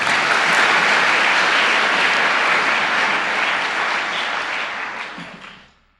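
A church congregation breaks into loud, sustained applause that fills the room evenly for several seconds, then tapers off toward the end.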